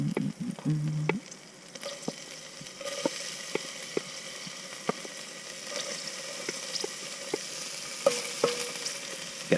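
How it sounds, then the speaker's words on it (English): Garlic and ginger sizzle steadily in hot oil in a pan, cooked outdoors from the back of a van, with sharp utensil scrapes and taps recurring every second or so over the constant crackle. "I'll leave this oil in and I can fry off the garlic and ginger"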